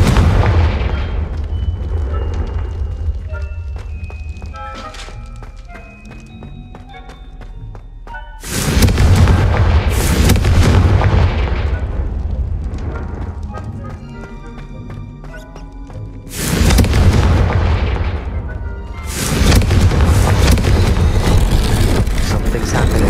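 Confringo spell blasts in the video game Hogwarts Legacy boom loudly in three separate waves, each a heavy explosive burst that rumbles and slowly decays into ringing magical tones and clatter.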